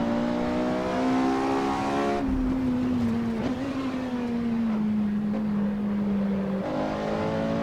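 A Porsche 918 in Assetto Corsa roars loudly and steadily, its naturally aspirated engine note shifting pitch as it climbs and settles, with a brief dip in the middle; no one speaks.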